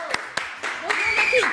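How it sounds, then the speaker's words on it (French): A French TV studio audience begins applauding a guest singer, with a few sharp separate claps building into a fuller run of clapping under voices. "je vous demande d'acclamer, vraiment d'applaudir,"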